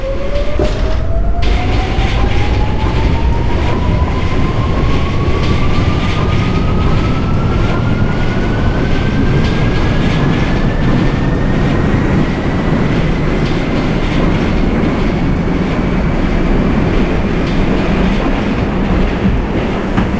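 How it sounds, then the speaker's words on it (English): An F train on the New York City subway runs in the OpenBVE train simulator game, a loud constant rumble and rattle of wheels on rails with a motor whine that climbs steadily in pitch as it speeds up, with no talk. "This is the Queens Brown F train."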